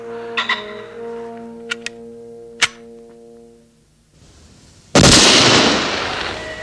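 A single loud, sharp blast erupts near the end, followed by a rushing, decaying echo, after a few quieter clicks and a low hum.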